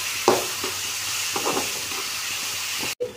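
Ambadi leafy greens frying in a pan and being stirred, a steady close sizzle with a few soft scraping strokes of the spoon, no talk.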